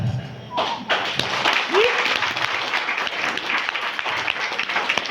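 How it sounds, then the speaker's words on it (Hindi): Audience applause at a marketing business plan presentation, a full continuous crowd clapping sustained throughout, with a voice and a thump briefly cutting through near the start. "पैसे के हिसाब से ताली कम बजा।"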